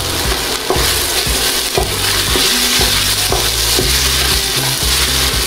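Onion frying in a pan while cooking ají de gallina, a loud continuous sizzle close up, with repeated clacks and scrapes of stirring breaking through every second or so and no talking.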